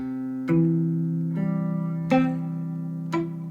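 A beginner strums a guitar chord several times, each strum ringing out slightly buzzy and uneven, close and clear with no talking.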